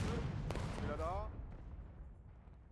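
Musket gunfire in the Civil War video game War of Rights: a couple of sharp shots ring out among battlefield noise, then the sound fades quickly to near silence.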